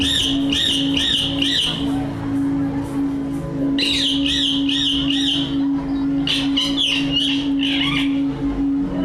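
A parrot gives repeated harsh, loud squawks in rapid bursts, two clusters separated by a pause, over a steady mechanical hum in the background.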